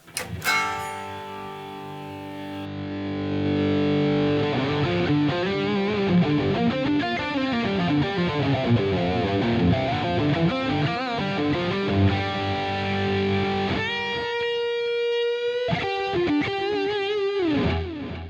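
A distorted electric guitar plays sustained chords and melodic runs through a heavily effected amp tone, loud and close, ending in choppy, stuttering notes.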